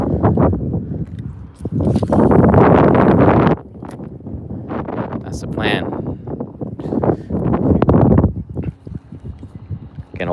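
Strong wind on open water during bass fishing in North Carolina roars and buffets the microphone in loud gusts, mixed with someone talking throughout.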